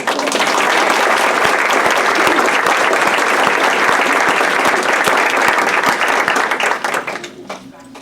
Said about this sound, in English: Let's give Kelsey another round of applause.